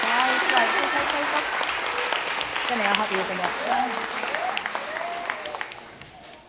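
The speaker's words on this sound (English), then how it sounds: "I think they need a massive round of applause for being so brave." A children's Christmas lecture audience at UEA applauds, with sustained, dense clapping from many hands that tapers off near the end while a presenter talks over it.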